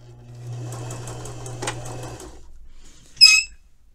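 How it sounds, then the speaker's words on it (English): A sewing machine briefly stitches a narrow hem with a quick, close run of needle strokes, followed by a short sharp click or snip after a pause; no talk is heard. "under the presser foot, so I might have to get past it and backstitch to it"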